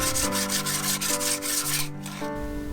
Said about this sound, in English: I'm going to need to sand all the pieces again in the direction of the grain